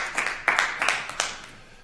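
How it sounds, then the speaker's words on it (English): Scattered hand claps from an audience at a city council special meeting, a few separate bursts of clapping rather than sustained applause, moderately close and fading out. "if we could keep the clapping down"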